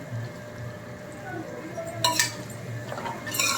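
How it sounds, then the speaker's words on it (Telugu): Marinated mutton is stirred into a sizzling tempering in a cooking pot, with a few sharp metal clinks and scrapes of a spoon against the pot over a low background hum. "పోపు వేగింది కాబట్టి పోపులో వేసేసుకొని ఒక్కసారి మొత్తం అంతా కలుపుకోవాలి."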